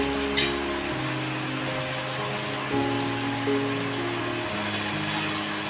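Ghotya vegetables are dropped into fried masala paste in a pan, setting off a steady close sizzle with a few soft clunks as they land and are stirred.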